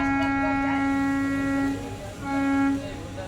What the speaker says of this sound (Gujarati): હોર્ન વાગી ગયો છે